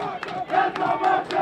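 A crowd at a high school girls soccer match roars and shouts in support of the Boxers, with rhythmic surging chants and cheers, loud and close.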